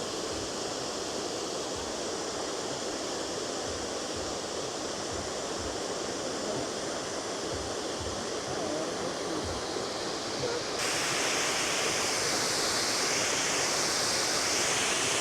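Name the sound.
Siklawa waterfall roaring in the Tatras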